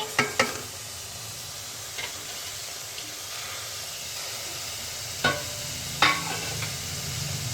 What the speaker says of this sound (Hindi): अब हमने कढ़ाई में तेल डाल दिया। अब हम इसमें प्याज डालेंगे।